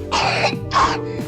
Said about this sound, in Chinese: 可能是天气干燥引起的干咳